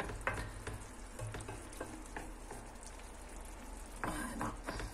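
Eggs sizzle and fry steadily in a pan of Turkish menemen (chakchouka), a dense crackling hiss with occasional louder stirring scrapes and pops, close and continuous, with no talking.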